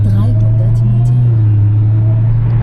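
A Dodge Hellcat being driven in Mexico gives a steady, loud, low engine drone throughout, with a faint higher whine from its supercharger riding above it.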